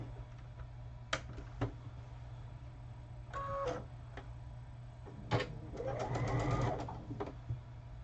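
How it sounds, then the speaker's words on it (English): A sewing machine stitches long straight seams with a quarter-inch foot, running in short close bursts of rapid mechanical whirring with a few clicks between them and no talking. "it's a whole bunch of straight sewing right now"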